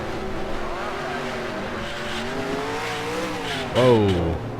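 Race cars passing in the NASCAR Racing 2003 video game, steady engine whine with rising and falling pitches as cars go by, ending in a sharp louder engine surge close up.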